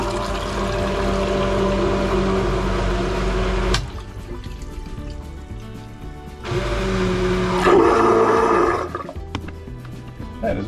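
A Seaflo electric toilet flushing and evacuating its bowl in a remodeled bathroom, a loud motorized whir and gurgling rush that cuts off, then starts again with water swirling before stopping.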